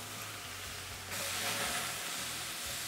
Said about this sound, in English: We're going to let this side sear for about 4 minutes as well.